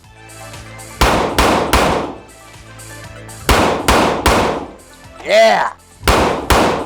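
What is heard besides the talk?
handling a Glock 20 pistol with boresight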